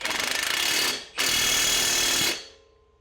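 An impact wrench rattles loudly on a 17 mm coilover nut on an Infiniti G37 Coupe, firing in two close bursts with a brief gap between them before winding down.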